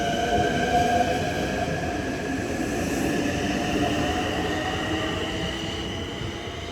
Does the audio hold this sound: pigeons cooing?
no